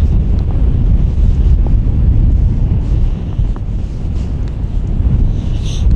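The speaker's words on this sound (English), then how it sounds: "hopefully when we get round the corner this wind will die down" Strong wind buffeting the microphone on an exposed Iron Age hill fort, a loud continuous low roar with gusts that ease slightly partway through.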